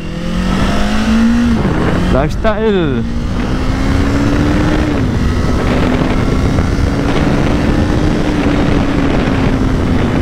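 A Kawasaki Eliminator 500 motorcycle under way: its engine note climbs, breaks through a quick gear change, then holds a steady rising drone with heavy wind rush, while someone talks over it.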